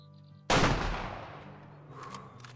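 A single sharp rifle shot fired at a feral pig in a hunting video game, one loud crack with a long fading echo and faint game sounds after.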